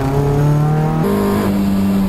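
Toyota MR2 race cars battle side by side at Mallory Park, their engines droning loudly in steady tones that shift pitch as gears change, with no talk in between.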